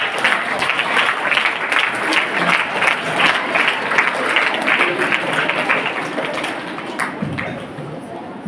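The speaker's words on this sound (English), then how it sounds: "Let's give a big round of applause to welcome them." An audience claps to welcome guests onto a stage at a guest-of-honour ceremony, giving sustained, dense applause at moderate distance with crowd murmur underneath that tapers slightly near the end.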